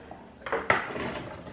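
A metal spoon clanks against a pot of fish stock cooking down, a few brief close knocks and scrapes over a quiet kitchen background.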